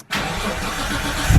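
An R33 Nissan Skyline with a straight-pipe exhaust cranks briefly and catches, settling into a loud, steady, close-up engine rumble that swells slightly at the end.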